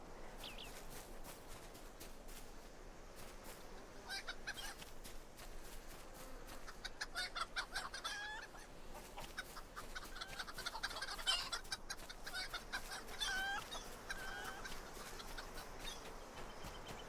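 Chickens in the online game Lord of the Rings Online cluck and squawk in short, irregular bursts over a quiet backdrop, several birds overlapping at moderate distance, growing busier in the middle.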